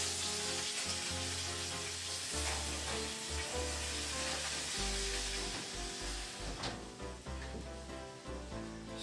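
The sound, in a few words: steak bites frying in a very hot pan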